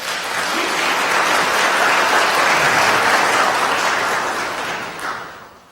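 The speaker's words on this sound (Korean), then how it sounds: "여러분 환영의 박수 부탁드립니다" A church congregation claps steadily during a Sunday worship service to welcome a visiting pastor, loud dense applause that builds quickly, holds for several seconds and then fades out, with no voices over it.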